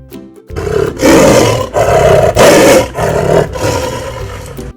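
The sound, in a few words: lion roaring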